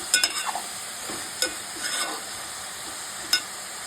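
Raw banana pieces fry in oil in a pan, a steady soft sizzle with a few sharp scrapes and clinks of a stirring spoon.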